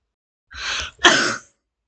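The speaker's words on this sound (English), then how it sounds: "I don't know why I coughed like that." A single harsh cough breaks out in two quick bursts, close and loud, against silence.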